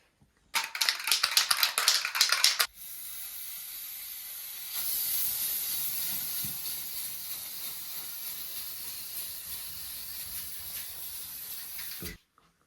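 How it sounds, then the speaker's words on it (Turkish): A spray can of varnish hisses onto a napkin-decorated item, first in a loud sputtering burst of about two seconds, then a steadier continuous spray lasting nearly ten seconds before cutting off. "Şimdi buraya şöyle sprey boya yapacağız. Vernik bu."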